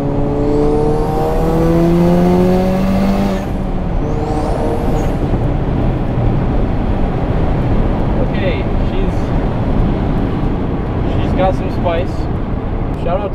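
A tuned Hyundai Elantra Sport, around 411 wheel horsepower, accelerates hard in a third-gear pull toward 4,000 rpm. The engine rises steadily and loudly for most of the stretch, with speech briefly over it near the start.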